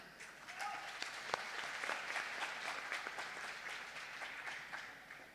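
An audience claps at a health ministry seminar, a steady, moderately faint round of applause with scattered sharper claps throughout.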